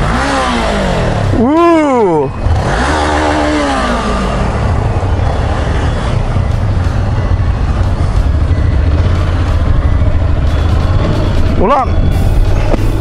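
Honda NC 750X DCT motorcycle revving hard at close range, pitch climbing and dropping with quick automatic gear shifts, loud throughout with a rider shouting over the engine.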